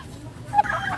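A sick Rhode Island Red chicken among free-range fowl gives a brief, soft cluck over low background noise.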